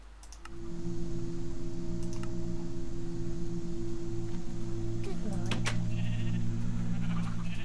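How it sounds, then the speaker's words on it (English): Sheep in the video game Sim-U-Kraft give several bleats over a steady droning game background, with keyboard clicks and typing mixed in. "Instant multicoloured sheep."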